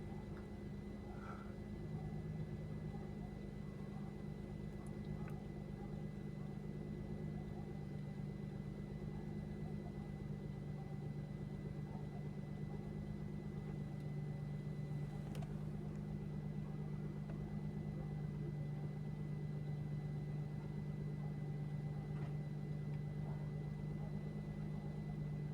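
A cold car engine idles steadily at about 1000 RPM, a constant low hum with faint tonal whine running unchanged and close by, with no talk over it.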